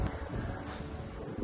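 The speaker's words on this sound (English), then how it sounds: "A windy day today." Wind buffets a microphone outdoors at a house construction site on a windy day, a steady low rumble that swells slightly at the end.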